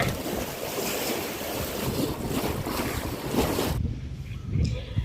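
A cargo ship at sea near Ko Si Chang island, heard as steady wind buffeting the microphone over washing waves and water noise, with no voices.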